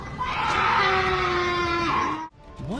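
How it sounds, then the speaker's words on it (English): A mountain lion screams on a trail camera at night: a long, loud, raspy wail with a wavering pitch that bends down near the end, then breaks off and is followed by a shorter rising cry. "many have said that the source of the sounds is only a mountain lion"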